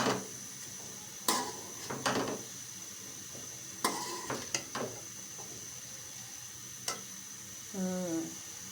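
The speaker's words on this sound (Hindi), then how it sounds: "इसको हम हल्का सा मिक्स कर लेते हैं" Cauliflower being mixed in a cooking pan, with a few distinct scraping and clattering strokes spaced through a quiet background sizzle, close and moderately loud.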